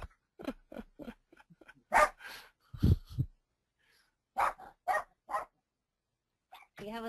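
Dogs bark several times in short bursts at an outdoor conference, loud and near, with a whimper and breathing between barks and people talking.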